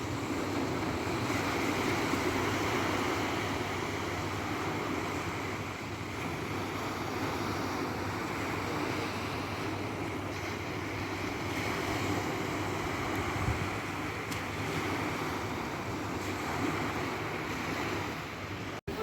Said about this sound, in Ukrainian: хвилі сьогодні на морі, невеликі